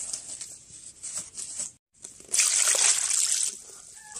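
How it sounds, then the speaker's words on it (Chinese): Glass leaves gathered for steaming sticky cakes are rinsed under running water, a close trickling splash that stops briefly and then returns as a heavier gushing stream. "用水给它好好洗洗。"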